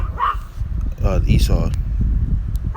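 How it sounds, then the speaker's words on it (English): Dogs barking outdoors in wind, a few muffled barks and yips heard under and between close speech with steady wind rumble on the microphone. "you can hear dogs barking and car horns and stuff like that"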